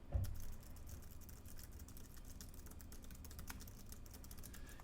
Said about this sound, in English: Here's what it sounds like with a rubber dome.